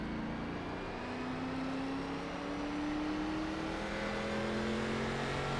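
A race car in the iRacing simulator, Gen4 and COT cars among those compared, accelerates at full throttle from a 55 mph line, its engine note a steady loud roar with a rising whine sweeping upward over nearly six seconds.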